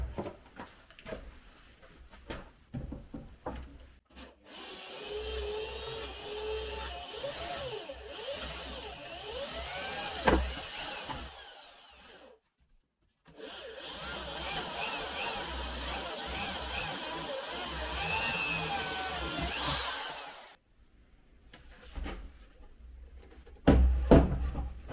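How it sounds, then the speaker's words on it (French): Drilling into a wooden crate while building a riding-style case, two long bursts of a power drill whirring with changing pitch, separated by a short pause, with brief knocks and handling clatter before and after. "je vais percer"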